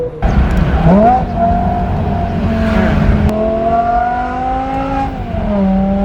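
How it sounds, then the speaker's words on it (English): The high-pitched straight-piped exhaust of a BMW M5 V10 wails loudly and continuously, the engine note rising and falling as it revs through gears, with no talking. "the iconic Formula One derived BMW M motor that everybody just loves because the sound is just so high pitched"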